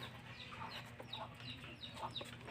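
A hen in a rural province setting clucks repeatedly in short, soft calls, fairly close but quiet, over a low background hum.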